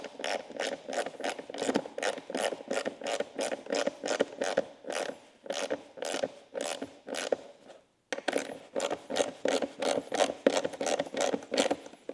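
Ratchet wrench clicking in fast, regular bursts while tightening the bolts that hold a motorcycle's lower underbody cowl to the engine and frame, close and moderately loud, with a brief pause partway through.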